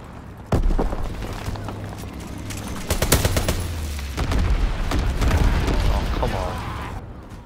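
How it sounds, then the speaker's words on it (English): Incendiary bombs explode in a World War II battle in Call of Duty WW2, with loud booms and a rattle of gunfire and blasts that keep going for several seconds, all close and dense. "Enemy bomb! Incendiary bombs incoming!"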